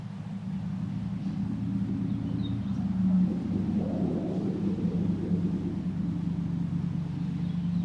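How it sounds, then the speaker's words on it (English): A truck passing on a nearby road, heard as a low, steady engine rumble that swells slightly toward the middle and then holds, fairly close and unbroken, with no talking. "I don't know how noisy that truck is going to be to the camera"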